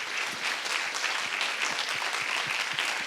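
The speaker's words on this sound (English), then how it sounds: "the ITS Rio and Berkman Klein team gets on stage for a big applause" An audience at a global symposium on artificial intelligence and inclusion gives a team on stage a continuous round of applause, dense and even, with individual claps popping out of the wash.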